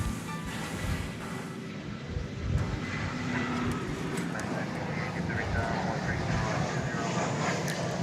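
A steady airplane engine roar holds throughout, broad and rumbling, as an Airbus A220 airliner passes low overhead on approach to land at DFW Airport at night. No voices are heard.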